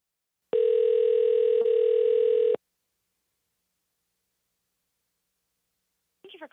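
A telephone dial tone on a call routed through a Rodecaster Pro sounds as a steady electronic hum for about two seconds, then cuts off into silence before a faint voice begins.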